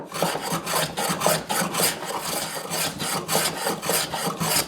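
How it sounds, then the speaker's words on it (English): A hand planer shaves the bandsaw-roughened edges of a wooden board, giving a steady run of rhythmic rasping strokes that sound close and fairly loud, with no talking. "I'll just take my planer and clean them off"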